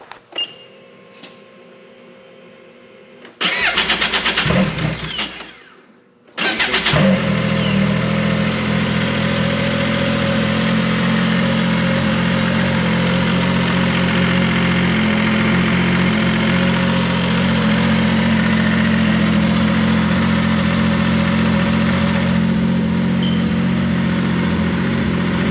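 Snowmobile engine cranks briefly, then catches and settles into a loud, steady idle close by, running continuously with a low droning rumble.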